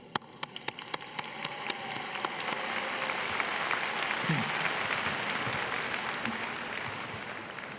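Audience applause at a graduation celebration for the Paul G. Allen School of Computer Science & Engineering, a steady, dense wash of many hands clapping throughout, swelling slightly and holding at a broad, sustained level.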